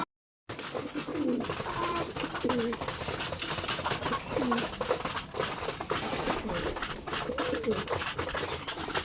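Racing pigeons, males from a flying zone being readied for upcoming races, coo repeatedly in soft low rolling calls against a busy background of fluttering and loft noise, with no speech.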